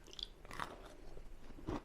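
Crunchy bites into warm air-fried Pop-Tarts, cooked four minutes at 200 degrees: a few brittle crunches and chewing sounds up close, quiet and with no talking over them.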